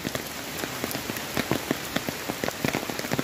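Steady rain falls on a pathway to Parshuram Kund in Arunachal Pradesh, where walkers carry umbrellas. A dense, even hiss runs throughout, with close, distinct drops tapping irregularly over it and no voices.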